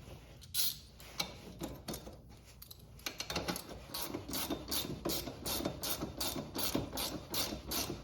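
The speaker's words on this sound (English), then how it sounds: "Tighten it back up with your 14mm." A ratchet wrench tightening a 14mm nut on the front wheel of a Suzuki Vinson 500 4x4 ATV, with a steady run of quick, close clicking strokes that grows more regular through the second half.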